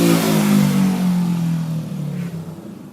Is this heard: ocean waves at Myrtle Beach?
no